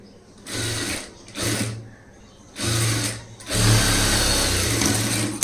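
A sewing machine stitches a front gap blouse in several bursts of running, with short pauses between the first few runs and then one longer continuous stretch, close and steady with a low motor hum.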